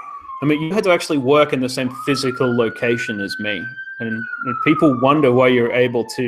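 An emergency vehicle siren passing outside wails steadily in the background, rising and falling slowly, while someone talks continuously over it.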